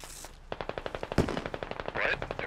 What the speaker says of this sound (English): I heard AK fire.